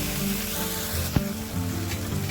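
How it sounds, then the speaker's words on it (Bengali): Cut Malabar spinach stalks and potato sizzle in a pan while being stirred, a short, even frying hiss with one sharp knock from the utensil partway through. "কেটে রাখা পুঁই ডাঁটা দিয়ে ভালো করে নেড়ে নেবো আলু ডাঁটাটা ভালো করে নাড়তে হবে"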